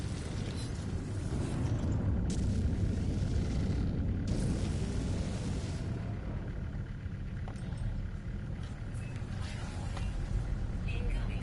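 A storm in the game No Man's Sky rumbles as a heavy, continuous low roar with occasional bursts, steady and loud throughout.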